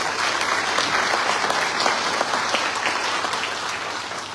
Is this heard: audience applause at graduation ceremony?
yes